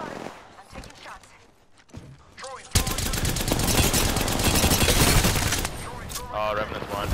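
Gunfire in a video game battle: a few muffled sounds give way abruptly to loud, dense automatic fire that continues in rapid bursts to the end, close and intense.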